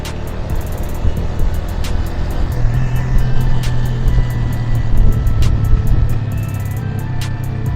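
Motorbike engine droning steadily as it rides down a mountain road near Batakundi and Naran in Khyber Pakhtunkhwa, Pakistan, a continuous low hum with wind rush and faint rattles, no talking.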